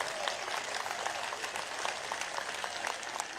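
An audience at a university convocation ceremony applauds steadily to welcome a state leader, a dense and even wash of clapping from many hands that fills the whole moment without any voices.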